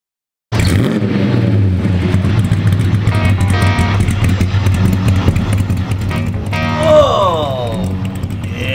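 Muscle cars at a stock drag race, a 1969 Camaro ZL1 and a 1971 Mustang Cobra Jet, cut in with loud rumbling engine noise and a rising revving whine toward the end, some voice mixed faintly underneath.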